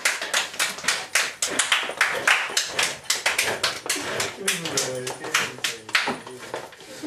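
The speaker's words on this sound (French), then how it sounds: "Je vous prie d'applaudir et d'acclamer très fort" An audience applauds a guest at a Christmas special, with brisk, loud clapping from many hands in rapid bursts and people calling out and talking over it toward the end.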